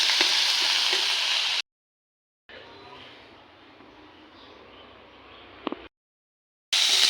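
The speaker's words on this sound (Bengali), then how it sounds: "মাছের তেলটা বসানো হচ্ছে, যে বেগুনটা ফ্রাই করা হচ্ছে।" Eggplant frying in oil left from frying fish sizzles in separate bursts, loud at the start and end and quieter in the middle, with abrupt silent gaps between.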